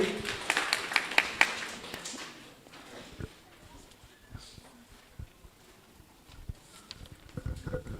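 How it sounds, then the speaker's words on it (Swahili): Scattered hand claps ring out at a Catholic church self-help group's annual general meeting, a burst of clapping in the first seconds that thins to sporadic taps and room noise, with a few claps returning near the end. "Haya, tumpigie makofi tafadhali."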